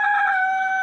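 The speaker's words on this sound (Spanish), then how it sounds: "el canto del gallo" A rooster crows once, loud and close, a single sustained bright call.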